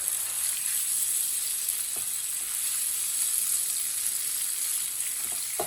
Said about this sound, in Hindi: सब चीज़ों को 2 मिनट के लिए पका लेंगे, हल्का सा भून लेंगे।